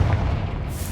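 A Confringo fire spell bursts in Hogwarts Legacy with a loud, sustained booming blast, heavy low rumble filling the whole moment without voices.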